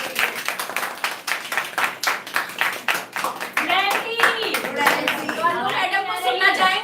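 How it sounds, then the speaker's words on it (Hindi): Indoor audience at a business meeting breaks into rhythmic clapping, steady hand claps at first, then mixing with cheering voices and chatter as the applause grows fuller. "जोरदार तालियां"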